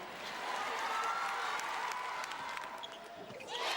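Crowd cheering and applauding at a New Zealand versus England netball final, a broad steady roar of voices and clapping from a large arena audience, with a commentator's voice faintly under the noise.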